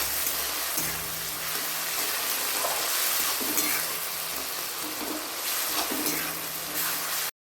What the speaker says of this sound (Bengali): এর উপর আমি দিয়ে দিচ্ছি কুচিয়ে রাখা টমেটোটা